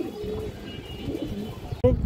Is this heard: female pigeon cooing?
yes